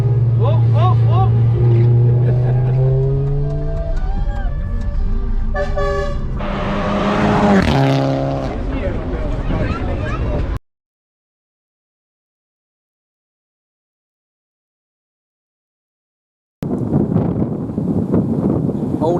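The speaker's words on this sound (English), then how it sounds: "Old Escort, followed by its younger brother, the Focus. RS." A Ford Escort and a Ford Focus RS pass by at a Ford RS national day, loud engine roar and revving with wind buffeting the microphone and voices over it, then abrupt silence before engine noise resumes.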